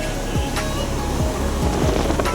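Sea waves at a beach roll in as a steady, loud wash of surf, constant and broad with a few low thumps and gusts, heard alone without voices.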